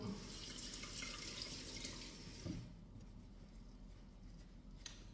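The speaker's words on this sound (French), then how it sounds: "Je me repasse les mains à l'eau." Water runs from a kitchen tap as hands are rinsed under it, a steady close hiss and splash that drops to a softer trickle partway through, with no one speaking.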